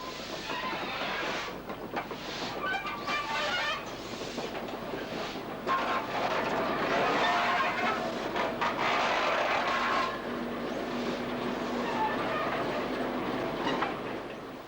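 A Class 04 diesel shunter moves a steam locomotive along rails at Ironville, giving a steady rumbling, clattering rail noise with engine drone that carries throughout without any talk.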